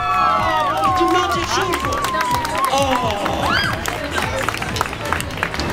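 A crowd at an outdoor birthday picket cheers and claps for a raffle winner, with lively whoops and scattered clapping mixed with excited voices and speech throughout.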